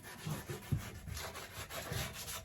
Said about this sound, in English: we are going to sand it